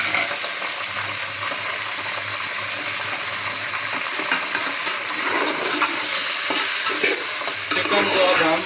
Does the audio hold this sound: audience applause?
no